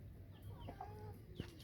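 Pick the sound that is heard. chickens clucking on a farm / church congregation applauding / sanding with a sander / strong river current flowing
chickens clucking on a farm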